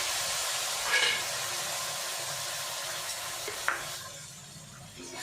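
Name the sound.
stirring blended tomatoes into the pan for palak paneer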